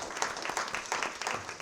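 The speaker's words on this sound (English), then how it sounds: "Give them a round of applause." Audience applause at an education talk, a dense, steady wash of many hands clapping from a crowd.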